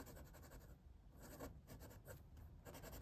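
An Admok M800 piston-filling fountain pen with a fine number 6 steel Schmidt nib writes on paper, giving a close, continuous dry scratch of pen strokes in quick bursts with brief pauses between words.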